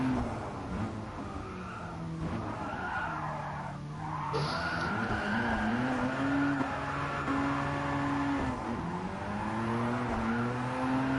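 A car in a racing video game drifts through corners at Bathurst, its tires squealing long and loud over a steady engine drone, with the pitch of the squeal rising and falling as the car slides.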